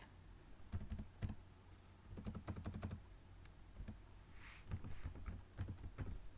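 Code being typed on a computer keyboard: irregular bursts of close, crisp keystrokes with short pauses between runs, no voices.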